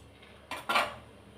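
Rice kuska stirred and mixed in a clay pan, heard as two short scraping, clinking strokes close by against a quiet background, with no talking.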